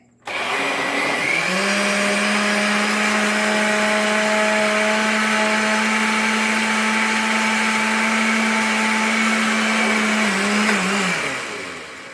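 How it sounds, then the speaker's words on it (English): A blender motor whirs loudly and steadily for about ten seconds, a high whine over churning whole tomatoes being puréed, then winds down at the end. "The tomatoes go in the blender."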